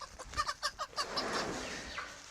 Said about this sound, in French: Vous aimez être dehors, hein, les poulets?